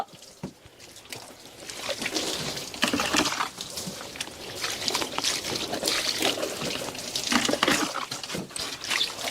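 Water splashes and trickles over an animal being bathed at a shelter. Pours and dribbles rise and fall irregularly, close and moderately loud.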